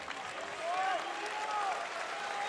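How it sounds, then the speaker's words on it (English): A basketball arena crowd at a FIBA World Cup game between Russia and Argentina gives sustained applause, a steady wash of clapping under a commentator's voice throughout. "Campazzo checks out to a very well-earned round of applause"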